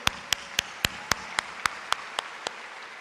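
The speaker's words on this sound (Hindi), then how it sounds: "क्या तालियां नहीं बजनी चाहिए उनके लिए?" Sparse, evenly spaced single claps ring out about ten times over three seconds at a business success-day event in Delhi, crisp and moderately loud with quiet gaps between them and no talk.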